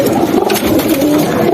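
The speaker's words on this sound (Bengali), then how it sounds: "উপরেও কিছু কবুতর আছে বাইরের" Domestic pigeons, silver and bezi types, coo in a home pigeon loft with a steady, low, throaty murmur that runs without a break through the short stretch, close by and with no talking.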